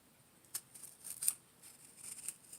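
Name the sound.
cutting aloe vera leaf into small pieces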